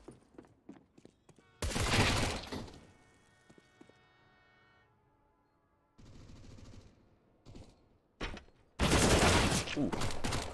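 MAC-10 submachine gun fire in a Counter-Strike: Global Offensive match, in loud, dense bursts that come in three spaced clusters, with quieter clicks and game sounds between them.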